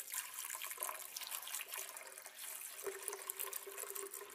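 About 200–250 ml of water pours into a blender as the base for a green smoothie, a steady, soft splashing trickle that runs for several seconds with no one talking.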